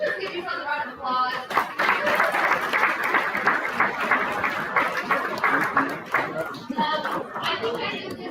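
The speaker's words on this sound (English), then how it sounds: "Can we just give yourselves a round of applause?" Audience at a live-streamed evening event applauds steadily for several seconds, a dense wash of clapping mixed with crowd chatter and a few voices talking over it.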